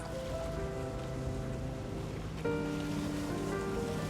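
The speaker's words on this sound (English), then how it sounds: "Cruising along the city's 150 canals, we discover the city of water." Boat cruising along a canal in Venice, a steady watery wash and engine hum running throughout, with a slightly louder swell partway through and no voices.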